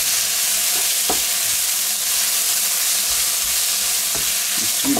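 Onions fry in a wok with a loud, steady sizzle and hiss, broken by a few scraping knocks as they are stirred.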